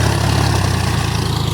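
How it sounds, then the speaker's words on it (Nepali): A tractor engine running in a rice paddy field during planting, a loud, close, steady low rumble with an even throbbing pulse throughout. "यहाँ धमाधम ट्र्याक्टर लाग्दैछ"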